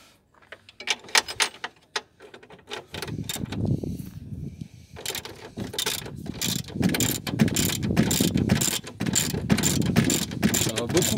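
Ratchet wrench turning a socket while replacing the steering rack on a BMW 530d E60, rapid metallic clicking strokes that speed up into a dense, busy ratcheting close by, with mechanical clunks mixed in.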